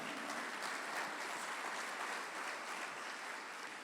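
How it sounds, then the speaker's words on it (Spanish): A church congregation applauds, giving an even, continuous wash of clapping at moderate volume that holds steady from start to finish, with no speech over it. "Dale un fuerte aplauso al Señor"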